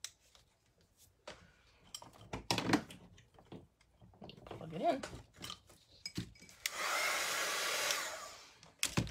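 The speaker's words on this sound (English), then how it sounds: "So I'm gonna zap it with my dryer really quick." Small craft heat or hair dryer blowing on a mixed media pumpkin craft, a steady whooshing roar of about two seconds near the end, preceded by clicks, taps and handling noises.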